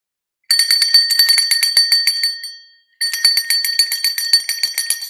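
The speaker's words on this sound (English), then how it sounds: "I'm ringing the bell, right?" A handbell rings outside a door in two bursts of rapid, bright metallic jingling, loud and close, with a brief pause between them.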